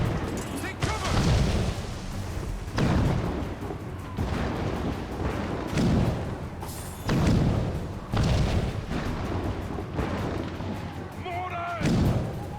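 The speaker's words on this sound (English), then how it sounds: "Chevalier's using mortars to stop Shay." Mortar fire and explosions in Assassin's Creed Rogue, a loud repeating series of heavy booming blasts spaced a couple of seconds apart, with shouting voices mixed in among the impacts.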